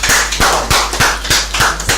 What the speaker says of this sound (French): Ok, ça s'applaudit, s'il vous plaît.